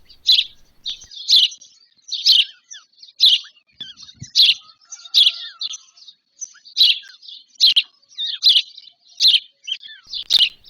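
Sparrows chirp repeatedly in short bright bursts, a lively, fairly close chatter that continues throughout with no other sounds.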